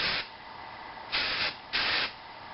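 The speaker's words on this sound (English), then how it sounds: "if you'd like some extra shine on it, like I do, I love my shine, I'm just going to spray that piece." Hair shine spray misted onto a section of a big blow-dried hairstyle: three broad hissing bursts, close and fairly loud, the first trailing off at the start, then two separate half-second sprays with quiet gaps between.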